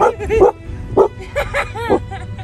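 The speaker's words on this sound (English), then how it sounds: "Bye, puppy. Bye, doggies." Dogs bark and yip in a quick run of short, sharp bursts at close range, with whimpery high notes and a low rumble underneath.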